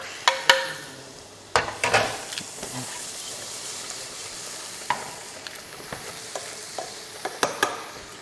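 Squid and prawns sizzle and fry in marinara sauce in a non-stick pan over medium-high heat, with a steady hiss broken by several sharp clinks and scrapes of stirring, close and fairly loud.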